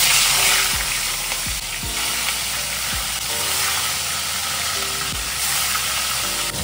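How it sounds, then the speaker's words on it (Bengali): Fish frying in a pan, a loud continuous sizzle close at hand, broken by several sharp thumps and scrapes as the pieces are turned, with no one speaking. "এখন মাছ ভাজা হচ্ছে"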